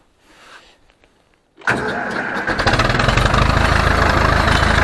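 An Ursus C-360 tractor engine cranks and catches, then settles into a loud, steady diesel rumble that keeps running after a quiet start.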